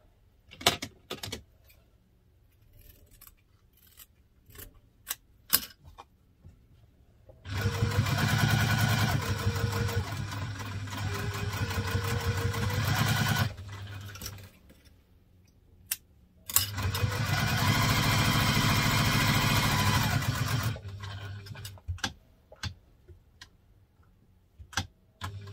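A sewing machine stitching a laptop briefcase panel runs in two steady, buzzing stretches of about five seconds each. Scattered ticks and handling clicks fill the pauses before, between and after.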